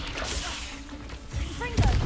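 A Bombarda blasting spell explodes in Hogwarts Legacy, a broad noisy burst with a crashing boom near the end over steady game ambience, with a voice calling out.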